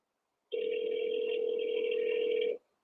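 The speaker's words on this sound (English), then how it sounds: "Just want to make sure you hear the phone ringing." A telephone ringing on a call, one steady, continuous electronic ring tone lasting about two seconds, clear and alone, beginning and ending sharply.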